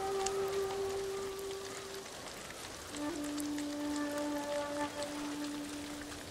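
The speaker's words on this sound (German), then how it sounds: "Kriege ich den Regen noch mal weg?" Steady rain in the video game Ghost of Tsushima, a continuous hiss of drops on surfaces with faint sustained musical tones running underneath, no talking.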